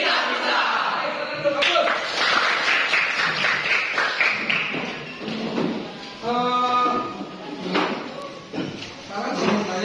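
A room of secondary school students performs the 'tepuk kuning' routine: bursts of rhythmic group clapping and taps alternate with loud chanted voices and talk.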